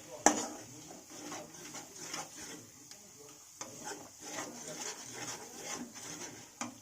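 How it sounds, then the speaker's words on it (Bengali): A utensil stirs chana masala spices in a pan, making soft scraping and rubbing strokes with an occasional sharp clink against the metal, faint and intermittent under a quiet background hiss. "এবার এইভাবে একটু নাড়িয়ে নেব।"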